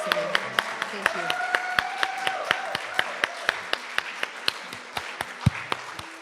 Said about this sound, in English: let's just give him a round of applause for his beautiful singing